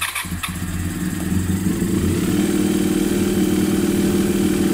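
A Honda RVF400 four-cylinder motorcycle with rebuilt carburettors fires up with the choke on, then runs at a steady, close, even idle with no talking.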